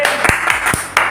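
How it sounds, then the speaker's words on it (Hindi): An audience at a business seminar claps in brief bursts, several sharp close hand claps standing out over a loud, busy hall for about a second. "Star Ruby. ताली बजाइए।"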